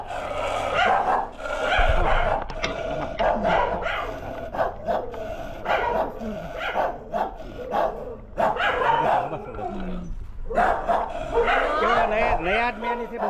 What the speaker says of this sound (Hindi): नए आदमी आने से भौंकते क्या?